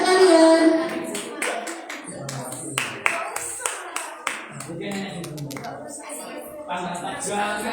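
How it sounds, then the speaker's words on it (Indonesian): An audience claps at a student organization's installation event after a performance, scattered hand claps and a few sharp single claps following louder sung or spoken sound, with voices mixed in throughout. "Mohon tepuk tangannya rekan dan rekan sekalian"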